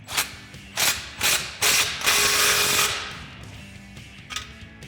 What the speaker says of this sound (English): take your 15 millimeter and tighten all your clamps